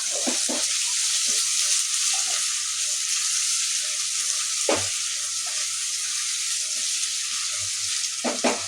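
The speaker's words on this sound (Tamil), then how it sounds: "இஞ்சி பூண்டு பேஸ்ட்டு சேர்த்துட்டு நல்லா வதக்கி விட்டுக்கொண்டேனா" Ginger garlic paste sautés in a pan for a vegetable biryani, a bright even sizzle throughout with a few dull knocks and stirring scrapes, close and steady, no speech.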